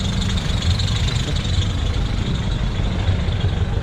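A motorcycle engine idles steadily and close by, a continuous low rumbling throb with an even texture and no revving, running on its own without talk.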